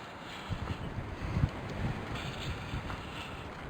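Strong gusting wind buffets the microphone in an open, shadeless outback setting in the Pilbara, a continuous low rumbling roar with surging peaks and no talking.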